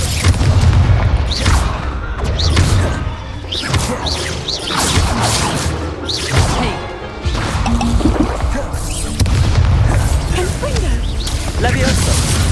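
The Incendio fire spell is cast in the video game Hogwarts Legacy, giving booming magical bursts and crackling, whooshing effects that repeat over a steady game soundscape.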